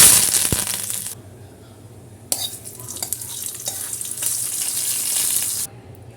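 Mustard seeds and dried red chillies spluttering in hot coconut oil, a sharp sizzling crackle that flares up, drops away, then builds again into steady close frying hiss before cutting off.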